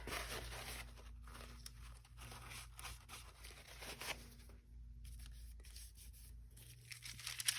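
A paper towel is torn in quick rough rips with some crinkling, quiet and close, over a low steady hum with no talk.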